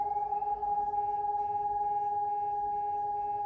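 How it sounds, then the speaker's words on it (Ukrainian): Car alarms sound outdoors in Kharkiv during a drone and missile attack, a steady electronic tone droning on with a faint pulsing warble above it, distant and continuous. "На вулиці а, сигналізації працюють у машин"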